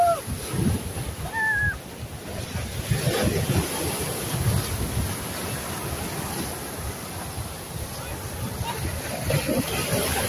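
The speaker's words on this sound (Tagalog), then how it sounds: "lumalakas na yung alon" Ocean waves surge and wash steadily at Fo Yeuk Chau (Magazine Island), Hong Kong, with wind buffeting the microphone, a continuous rushing roar with brief faint voices early on.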